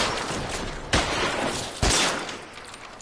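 Gunfire in a shootout from L.A. Noire: a steady, dense crackle of shots runs throughout, with two sharper, louder blasts standing out about a second apart, fairly close and without talk.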